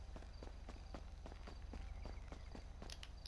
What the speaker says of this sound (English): Can you hear my footsteps?